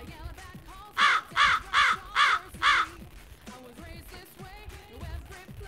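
A raven caws five times in a steady, evenly spaced series, loud and close, over low background rumble and faint ambient noise.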